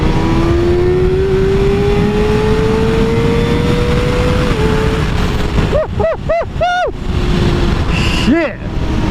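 A Kawasaki ZX6R sport bike engine winds up to high rpm on a track, a steady rising drone that breaks into a series of sharp, loud revving swells near the end, with a voice briefly audible.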